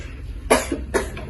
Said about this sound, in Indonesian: tiba-tiba ia mendengar suara batuk dari kamar ibunya